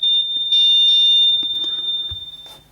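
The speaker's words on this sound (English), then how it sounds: "high pitch sound that you can play through them, you can locate them if you've lost them on the floor somewhere" A piercing, steady high-pitched locator alert tone from OpenRock S2 open-ear earbuds sounds continuously, nearby and loud, with faint handling clicks, then fades in volume toward the end.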